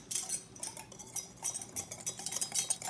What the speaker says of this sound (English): I'm gonna go ahead and whisk it